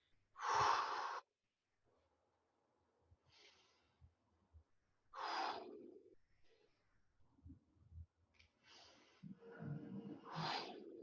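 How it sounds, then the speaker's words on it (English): Deep exercise breathing during a stretching workout, several forceful exhalations pushed out in bursts with quiet gaps between, close and fairly soft, with faint breathy noise in the pauses. "Breathing deeply, forcing the air out."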